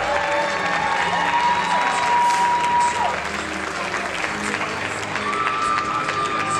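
A crowd at a men's bodybuilding show applauds and cheers for over-40 competitors posing on stage, loud continuous clapping with shouts and whistles throughout.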